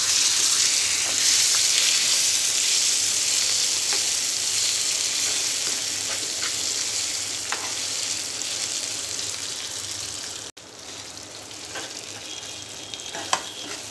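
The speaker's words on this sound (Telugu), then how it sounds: "తాలింపు ఫ్రై అయిన తర్వాత ముందుగా నూరుకున్న పచ్చడి వేసి కలుపుకోవాలి" Ground cucumber chutney is stirred into a hot, frying tempering, giving a loud, continuous sizzle and crackle with occasional scraping stir clicks. It sounds close, with no talking, and a brief break near the end.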